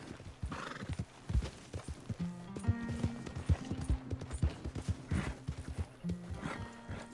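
Horse hooves clip-clopping at a walk with a loud whinny, in the Red Dead video game; the hoofbeats repeat steadily at close range under background music.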